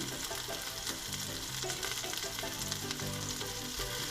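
Burger patty and onions frying in a pan, a steady close sizzle with continuous crackling spatter and faint stirring, constant level throughout with no voices.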